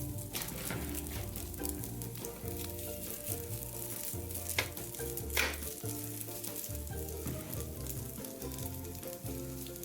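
Sausages sizzle on a hot toast maker in a steady, close crackle that runs throughout, with music playing underneath and a couple of brief clicks.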